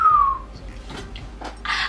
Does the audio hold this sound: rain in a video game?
no